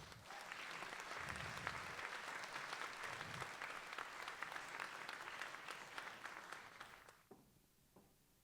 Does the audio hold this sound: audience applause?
yes